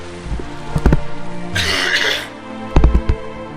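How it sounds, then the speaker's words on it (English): A man coughs and clears his throat a few times in short close bursts, with a brief breathy noise in the middle, recorded alone during a game commentary. "Maybe I should cough."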